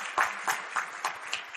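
Scattered applause from a small audience at a Copper Canyon town hall forum: a handful of distinct claps spaced apart, close and moderately loud, tapering off quickly.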